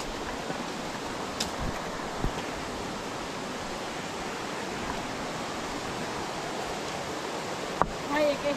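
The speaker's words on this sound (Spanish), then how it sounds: "Ay, es que el río tiene tanta agua que estoy muy cómodo." A river carrying a lot of water rushes in a steady, dense roar throughout, close and loud, with occasional faint knocks and splashes.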